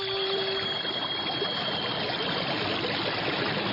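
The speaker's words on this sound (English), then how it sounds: "It sounds like a giant waterfall." A roaring whirlpool sounds like a giant waterfall, a loud, unbroken broadband rush of churning water that holds steady and close for the whole stretch.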